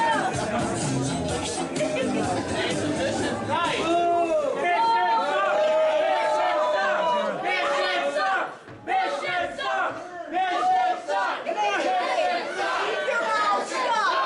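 At a live wrestling event a crowd roars and shouts loudly in sustained waves, many voices yelling together, with one brief dip before the noise surges again.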